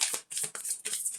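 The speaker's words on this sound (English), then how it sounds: "I started shuffling cards on camera with the mini weeklies last week" Deck of cards being shuffled close up, quick papery riffling in four or five crisp bursts separated by short gaps, with no talking.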